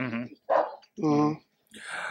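A man imitates a barking dog with his voice, giving several loud, close, separate barks and yelps with short silences between them.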